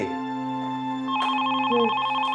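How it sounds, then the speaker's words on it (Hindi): A landline telephone rings with a steady electronic warble, loud and close, the tone shifting pitch partway through, heard alone without voices. "अरे लगता है समर का फोन आ रहा है।"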